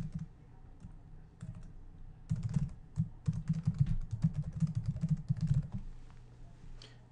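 Typing a checkout name and email address on a computer keyboard, a quick irregular run of close key clicks that gets busier midway, alone with no talk.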